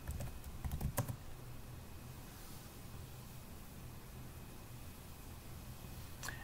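A password is typed on a computer keyboard: a quick burst of a few close key clicks near the start, then quiet room hiss, with one more faint click at the very end.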